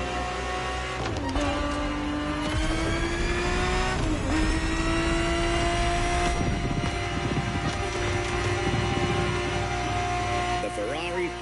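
A Ferrari 365 GTB4 engine in a racing video game drones steadily and climbs through several rising revs between gear shifts, moderately loud and continuous, with faint voices in the background.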